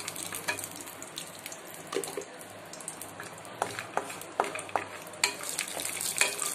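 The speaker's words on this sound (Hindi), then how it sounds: "इस तरह से हम इसको घी में रोस्ट कर लेंगे।" Dry fruits roasting in a small amount of ghee in a kadhai, with a soft sizzle under repeated scraping and stirring clatter, close by and fairly quiet.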